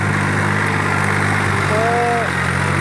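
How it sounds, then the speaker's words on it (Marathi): A Swaraj Target 630 tractor engine runs steadily at 2000 RPM in ninth gear while working in a sugarcane field, a loud, constant mid-pitched drone with a voice speaking over it. "ट्रॅक्टर सध्या 9 थर्ड आणि 2000 RPM वर चालू आहे"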